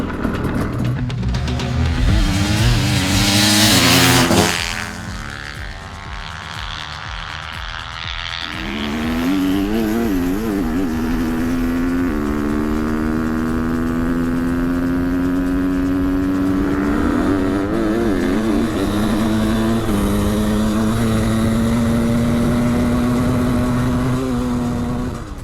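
A 700cc two-stroke dirt bike races a KTM 250 EXC four-stroke. There is a loud roar of revving engines at the start, then a sustained high-pitched two-stroke wail that climbs steadily as the bike accelerates and holds full throttle.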